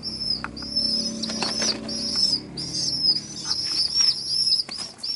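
Young pigeon squabs give repeated high, thin chirps close by, mixed with soft flapping and rustling in the loft. No one is talking.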